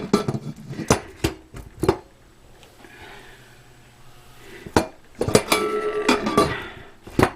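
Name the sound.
putting the lid on an All American pressure canner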